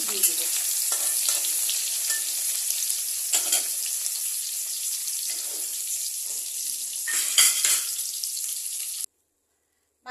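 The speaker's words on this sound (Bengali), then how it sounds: "মাছ ভাজা আমার হয়ে গেছে" Small fish sizzle steadily in hot oil in a pan over lowered heat, added alongside fish heads, a continuous close frying hiss with occasional stirring clatters, ending abruptly in silence near the end.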